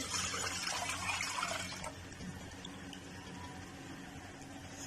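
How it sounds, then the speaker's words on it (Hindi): Chicken stock (yakhni) poured into a soup pot, a dense splashing gush for under two seconds that settles into a low liquid murmur. "अभी जो चिकन स्टॉक है हमारे पास, चिकन की जो हमारे पास यखनी है वो डालेंगे।"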